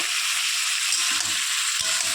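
Vegetables, ridge gourd among them, fry in a pan with a continuous close sizzle and a few soft stirring scrapes toward the end, with no voices.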